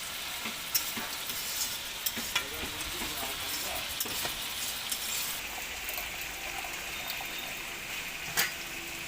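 Poultry meat cooks in a pot with gourd in a cold-storage setting, giving a continuous loud sizzle and bubbling, with occasional close clinks of stirring.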